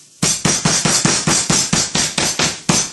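A thin piece of meat pounded flat for schnitzel, about eleven hard, evenly spaced blows in steady rhythm, loud and close, with no talk.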